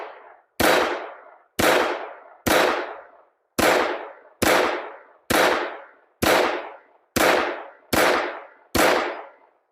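Walther WMP pistol in .22 WMR firing ten sharp, loud shots at roughly one-second intervals, each crack followed by a short decaying ring, with no voices between them.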